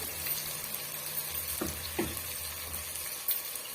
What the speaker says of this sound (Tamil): இந்த விழுதை இதோட நம்ம சேர்த்துடலாம்